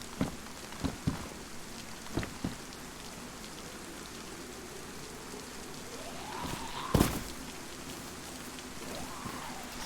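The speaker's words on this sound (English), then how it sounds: "the rain started up again" Steady rain falls across an outdoor scene on the DeerIsle map in DayZ, a continuous hiss with a few sharper knocks and one loud burst near the end, and no one talking.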